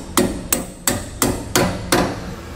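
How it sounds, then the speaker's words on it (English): Six sharp metallic taps come at a steady rhythm, a bolt being driven to seat a Dexter E-Z Flex trailer suspension bushing, each strike close and crisp with a short ring. "Take one of your old bolts, slide it in, and tap it into place."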